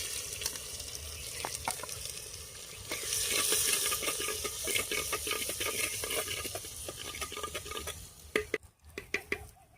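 Garlic-ginger paste sizzles steadily in a hot pan with scraping stirs throughout, growing louder midway, then a few sharp clatters near the end.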